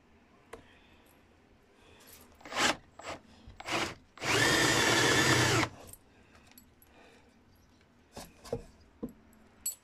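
A power drill whirs loudly for about a second and a half, boring into fibrous spruce wood, surrounded by scattered knocks and handling sounds.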